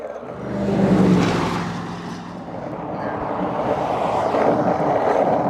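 A car passing on a road beside a highway shoulder where semi-trucks travel, a broad engine and tire roar that swells early, eases, then holds steady and close to the end, with no talk over it.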